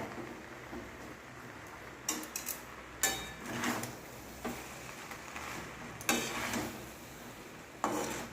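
Chicken chow mein noodles being tossed and mixed in a pan, with soft scraping stirs and a few sharper clinks of utensil on metal over a faint background.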